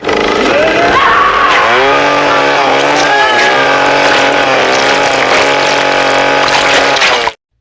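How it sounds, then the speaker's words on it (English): A loud chainsaw roars and revs steadily for several seconds in a zombie horror film scene, then cuts off abruptly. "Cindy grabs a chainsaw and rips Voice Box a new one."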